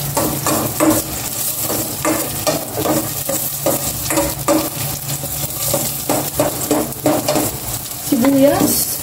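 Garlic frying in a pan crackles and sizzles continuously up close, with frequent stirring scrapes and a few clinks of utensil on pan.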